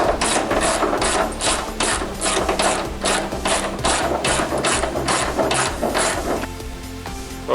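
A ratchet wrench clicking rapidly and steadily while undoing the hood bolts on a 2005-2009 Pontiac Torrent or Chevy Equinox, loud and close, with a brief rattling pause near the end.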